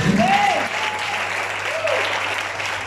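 Church congregation applauding during a service, a sustained, dense burst of clapping that runs the whole time at steady loudness, with a couple of brief high vocal cries rising above it.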